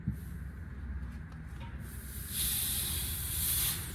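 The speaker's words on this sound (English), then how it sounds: "Before we start spraying, I am gonna drain the tank" A steady low hiss of air escaping as an air compressor tank drains, swelling louder partway through, with a faint mechanical rumble underneath and no talking.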